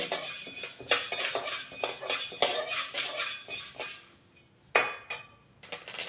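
Fenugreek seeds dry-roasted in a pan over a low flame, with a spatula scraping and clinking against metal in a busy, continuous rattle that thins out and then returns in short bursts near the end.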